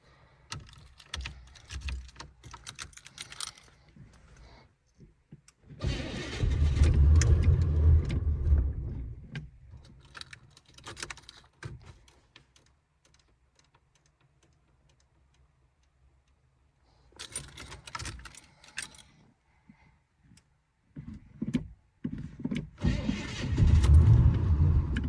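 A cold truck engine cranks in a few separate bursts, with quiet gaps between them. The bursts are close, rough and uneven, and no steady running idle follows.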